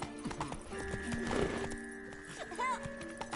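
Hooves of Roach, Geralt's horse in The Witcher 3, clip-clop loudly in a quick galloping rhythm, with a whinny and game music tones layered over the steps.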